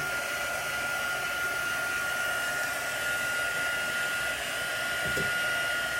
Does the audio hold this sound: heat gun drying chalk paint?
yes